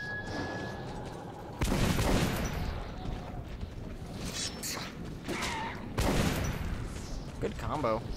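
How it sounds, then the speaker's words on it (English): Gunfire in the shooter Metro 2033 Redux arrives as heavy booming bursts and crackling shots at varying distances, mixed with other game effects and a voice speaking. "I hear gunshots."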